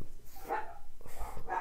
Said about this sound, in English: Excuse my dogs, they